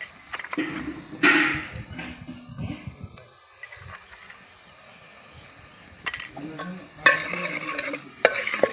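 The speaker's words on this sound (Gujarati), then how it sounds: "થોડી વખત આપણે હલાવવાનું રહેશે" A Gujarati bhel mixture seasoned with turmeric and garam masala is stirred in a pan, with scraping, rustling strokes in uneven bursts, loudest near the start and again toward the end, over a light sizzle.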